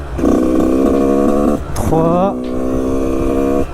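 A Yamaha YZ85 two-stroke dirt bike engine revs hard nearby in fourth gear, its pitch holding then jumping sharply upward, while someone speaks briefly over it.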